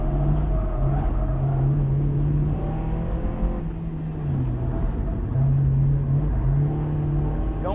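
Honda S2000 sports car on Continental DWS Extreme Contact street tires accelerating through a timed lap, a steady loud engine drone rising and falling in pitch as it shifts, no talking.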